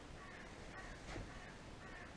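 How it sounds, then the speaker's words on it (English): Crows caw repeatedly at a distance inside an abandoned library building over a steady background hiss, the harsh calls spaced out and slightly echoing. "It's like Bird Central in here. I can hear them."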